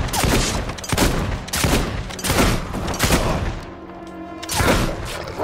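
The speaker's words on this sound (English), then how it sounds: "How about I shoot you multiple times in the face and you go away?" Gunshots are fired at an enemy in the video game Fable II, coming as loud booming reports roughly every second with a brief lull before a final blast.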